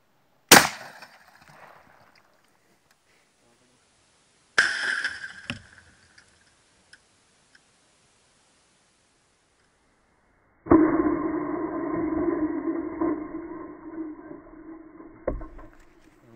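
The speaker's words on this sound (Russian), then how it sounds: "Будем стрелять с ружья 12 калибра, также пуля СКМ" A 12-gauge shotgun fires a 33-gram SKM slug through a TV set: a sharp broadband blast near the start, a second loud report around 4.5 seconds, then a sustained humming tone with rattles for several seconds.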